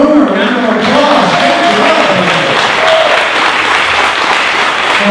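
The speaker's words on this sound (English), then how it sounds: "Let's give Warren a round of applause." Sustained applause from an audience at a Corvette giveaway award ceremony, a steady wash of clapping that stays loud throughout, with a few voices faintly mixed in.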